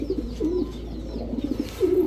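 A pair of racing pigeons with black necks coos in a few soft, low repeated phrases close by, with no one talking over them.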